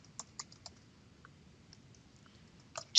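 Typing on a computer keyboard while working on a simulation: a few scattered, spaced key clicks early on, a quiet stretch, then a denser, louder burst of keystrokes at the end, close and clear with no voices.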